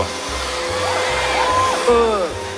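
A Starwell vacuum cleaner running with a steady, loud whirring hum, its pitch rising and falling slightly while a voice speaks over it in places.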